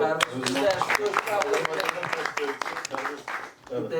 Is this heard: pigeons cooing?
no